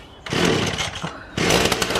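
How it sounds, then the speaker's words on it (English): A chainsaw starts with a loud burst and runs roughly, dips briefly, then roars back up to full power close by, with no talk. "Dangerous chainsaw."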